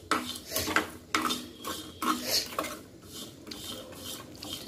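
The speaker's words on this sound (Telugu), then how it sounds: "ఇప్పుడు ఈ నువ్వులు ధనియాలు అడుగున మాడిపోకుండా చక్కగా ఇలా తిప్పుకుంటూ ఉండాలి" Sesame and coriander seeds dry-roast in a pan while a spatula stirs them, giving repeated rasping scrapes and gritty rustles in an uneven rhythm, close and clear with no talk.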